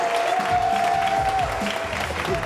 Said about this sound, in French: Applaudissez bien pour Manager confirmé.